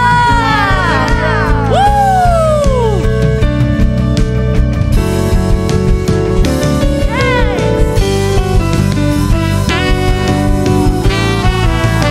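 A church congregation at a night worship service shouts and whoops hallelujah together, loud and sustained, with rising and falling cries over music and ongoing crowd noise.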